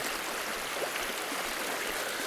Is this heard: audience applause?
no